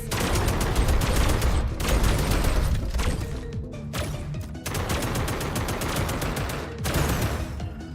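Turrets in Ratchet and Clank fire rapid bursts of gunfire, dense rattling volleys broken by brief pauses and repeating in loud close waves.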